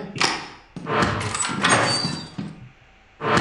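Door being unlocked and opened inside the video game Lethal Company, a few close clunks and a drawn-out creaking slide, with a final thud after a brief lull.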